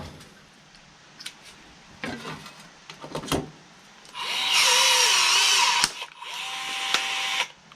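Milwaukee M12 cordless riveter setting a stainless steel rivet, heard as a few short clicks and knocks followed by a loud, sustained whirring motor run of about two seconds, a brief pause, then a second shorter whirring burst.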